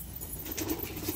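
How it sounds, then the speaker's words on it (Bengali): Pigeons take flight with a soft burst of flapping wings close by. The flutter is low and brief over a quiet outdoor background, with no voices. "এখান থেকে পায়রা ওড়ানো হচ্ছে এখন।"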